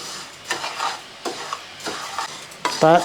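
Close-up scraping of a spoon stirring dry rice grains as they roast in a hot pan, several separate strokes over a faint background sizzle.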